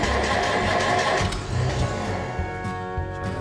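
An old tractor engine cranks and catches, a rough mid-pitched chugging that settles into a steady idle with a humming tone, close by.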